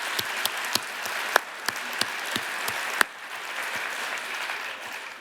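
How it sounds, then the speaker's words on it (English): An audience applauds with a moderate, fairly thin patter of clapping. A few louder individual claps stand out early on, then the applause settles into a softer, even ripple. "can we please give everyone that had their hand up a massive round of applause"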